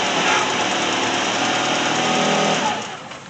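A 2009 Ford Focus engine runs steadily and loudly up close, a continuous dense drone that eases off slightly near the end, with no talk over it.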